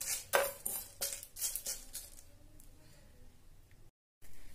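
Dried red chillies, bay leaves and whole coriander stirred in a dry pan make a quick series of close clinks and scrapes that fade into a faint, quiet rustle, with a brief silent gap near the end.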